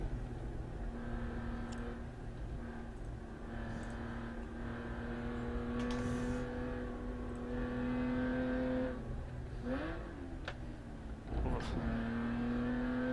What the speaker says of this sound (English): No, I heard that downshift